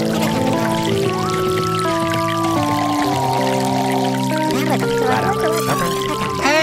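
Water pours and splashes steadily from a hose under sustained musical tones, filling the whole stretch without pause.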